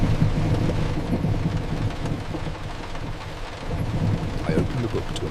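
Steady rain at night, a dense wash of noise with low rumbling and wind buffeting that dips slightly midway and then swells again, continuous and alone with no voices.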